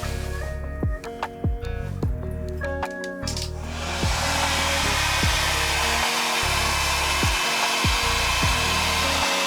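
A heat gun warming glued plastic furniture parts in an Eriba Puck caravan: a loud, steady blowing whoosh that starts partway through, preceded and overlaid by sharp ticks and cracks from the softening plastic, with no talking.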